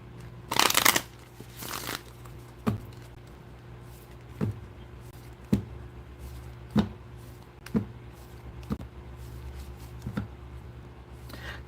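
A deck of tarot cards is shuffled close up: an initial riffling burst, then a series of crisp, evenly spaced taps and flicks about once a second, alone with no talking.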